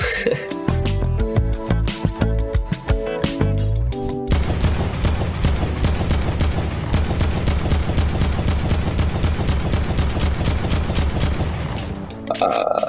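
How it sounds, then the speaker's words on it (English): Sustained rapid AK-47 heavy assault rifle fire in Fortnite, loud and dense, running almost continuously for about eight seconds after a stretch of game music and effects. "The AK-47. Yeah, that's the AK."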